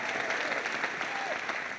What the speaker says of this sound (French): S'il vous plaît, applaudissements, s'il vous plaît.